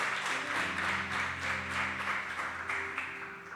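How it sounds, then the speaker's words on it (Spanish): A church congregation claps in a steady rhythm over sustained keyboard chords, the beats fairly soft and evenly spaced throughout. "denle un fuerte aplauso al Señor"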